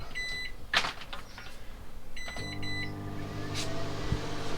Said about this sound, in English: we'll just flick the microwave on